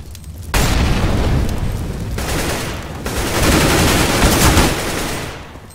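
A CS:GO incendiary grenade bursts and burns with a roaring, crackling rush, and gunfire pops mix into the dense, loud noise for several seconds.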